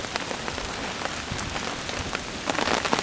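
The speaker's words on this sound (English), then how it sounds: "there's a rainstorm here going on" Steady rain pattering on surfaces in a November woodland at a wild hammock camp, a continuous close wash of drops with scattered louder hits, no voices.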